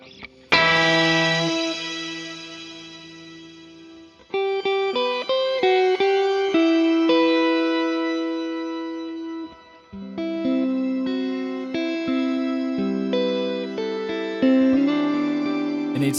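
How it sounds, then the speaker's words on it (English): A custom-built guitar effects pedal gives sustained guitar notes and chords a shimmering reverb. The tones ring out in long, layered washes with bright upper overtones, loud and alone. "Gotta love your shimmering reverb."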